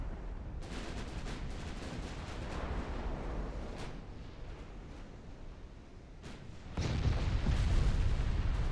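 Warship guns in a naval video game fire high-explosive shells, heavy booming salvos rolling into one another with a few sharp reports and a louder blast near the end, and no voices.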